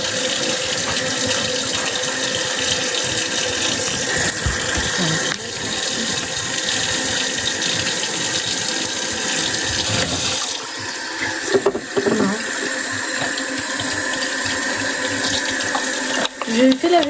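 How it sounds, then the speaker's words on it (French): Tap water runs continuously into a kitchen sink during dishwashing, a steady splashing hiss with brief clatters of dishes and short pauses near the end; no clear talk over it. "Je fais la vaisselle."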